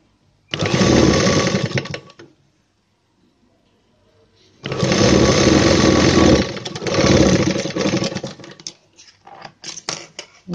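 An electric sewing machine stitching a blouse runs in two bursts, a short two-second run, a pause, then a longer stretch with a brief break, close and fairly loud, ending in scattered handling clicks.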